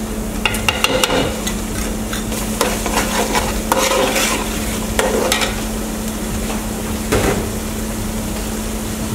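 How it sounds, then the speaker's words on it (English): Tomato, onion and pepper paste sizzles in a pot for smoky jollof rice, a continuous close frying hiss with intermittent clinks and scrapes of a utensil, and a steady low hum beneath, with no voices. "And now in goes in the tomato, onion and pepper paste."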